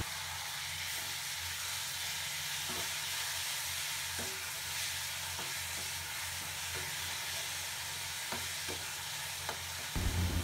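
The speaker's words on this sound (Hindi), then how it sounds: "अब हम इसमें टमाटर डाल देंगे और उन्हें भी अच्छे से मिलाएंगे।" Tomatoes stirred into onion and garlic frying in a pan for a tomato-onion chutney, giving a steady close sizzle and hiss with a few soft scraping strokes of the spoon, and no talking.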